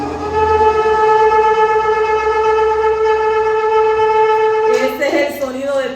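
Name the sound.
shofar teruah blast, short repeated alarm notes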